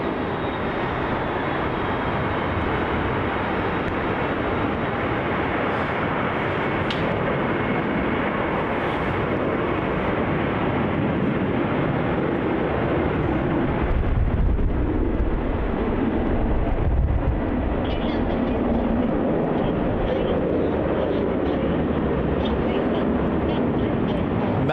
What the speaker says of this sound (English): Here's that Qantas A330 to Singapore.